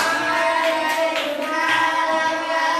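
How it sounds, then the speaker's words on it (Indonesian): Classroom applause from a group of students, a steady dense patter of many hands clapping together that fills the whole stretch without pause. "Tepuk tangan."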